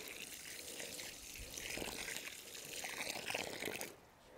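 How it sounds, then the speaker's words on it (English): Water poured from a container into a freshly dug planting hole for a ninebark shrub on a slope outdoors, a steady soft trickling and gushing pour lasting several seconds before stopping. "So I always like to just pour some water in the hole."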